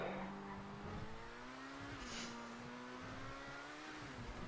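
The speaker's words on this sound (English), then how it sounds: "You can hear revs hitting nice and high as he reaches a peak." A race car engine in a GTA V Online stunt race revs high and holds a steady, gradually climbing whine with a continuous rumble beneath it, fairly faint overall.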